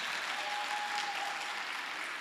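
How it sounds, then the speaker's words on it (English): A small audience at an academic presentation competition claps for itself, a steady, even wash of applause filling the whole stretch at moderate volume with no talk over it. "Let's try, clap for yourself."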